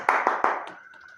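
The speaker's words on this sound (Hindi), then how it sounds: "इस पे तालियां आती है," A thin smattering of audience claps at a Hindi comedy show: three sharp hand claps in quick succession, then a few faint trailing ones fading out.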